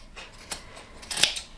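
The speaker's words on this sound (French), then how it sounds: "Je passe à l'intérieur avec mes ciseaux et petit à petit je vais découper" Scissors snip through the middle of a ball of wool yarn, with several soft, close cuts and a brighter snip near the end, heard alone.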